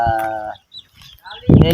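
A goat bleats with a wavering nasal call at the start, followed by a pause and then a voice speaking Hindi-Urdu close by.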